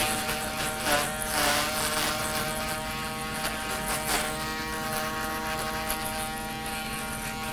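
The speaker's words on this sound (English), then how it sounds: "I'm just gonna use my shaver down here to clean up this area" A buzzing electric shaver clears hair during a man's haircut and beard trim, a steady close-up hum with harmonic overtones and slight swells as it moves across the head.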